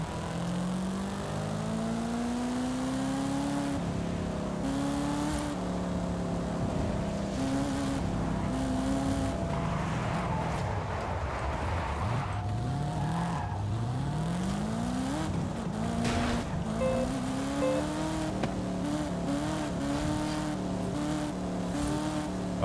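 A level 2 Audi in Forza Horizon 5's Eliminator mode races along with a continuous engine drone, its pitch climbing and falling through gear changes and revs, with a few rising whines and no talk over it.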